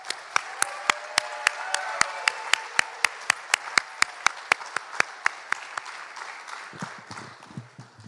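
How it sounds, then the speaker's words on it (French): Audience at a college graduation ceremony in Timmins claps in unison, sharp evenly spaced beats over a dense bed of scattered applause that thins out near the end. "Une bonne main d'applaudissements."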